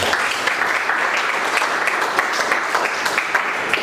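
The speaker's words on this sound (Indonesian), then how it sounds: "Tepuk tangan." A classroom of students claps together after a group presentation in a milling-machine lesson, a brisk, steady patter of many hands that stays close and fairly loud throughout.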